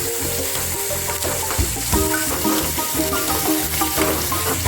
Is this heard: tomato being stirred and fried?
yes